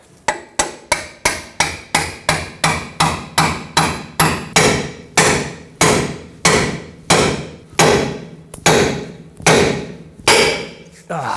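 Steel pickle fork driven by a hammer to split the front lower control arm joint on a 2003-2009 Toyota 4Runner: about two dozen sharp, loud metallic blows, evenly paced and slightly slowing, each with a short ringing decay.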